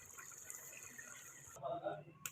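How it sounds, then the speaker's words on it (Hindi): Water from a tap rushes steadily into a pot of fried mutton and potatoes, then gives way to a brief, duller splashing pour near the end, quiet and close. "अब इसमें हम पानी शामिल करेंगे"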